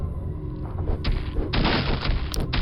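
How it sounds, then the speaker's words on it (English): Several loud weapon shots in Quake: Arcane Dimensions, fired at a wall button inside a necromancer's keep, coming as booming, thudding blasts in quick succession. "if we fire upon that button, it'll open up the wall and floor to reveal a secret path"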